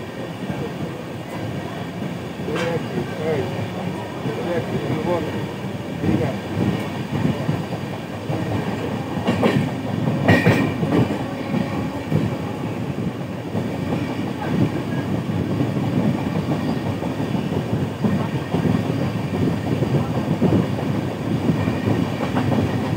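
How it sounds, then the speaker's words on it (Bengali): Howrah Bolpur Shantiniketan Express running slowly on its tracks, a steady rumble of rolling wagons with faint clickety-clack and occasional wheel squeal, heard from inside the train throughout. "আর আমাদের ট্রেন এখন স্লো টানছে"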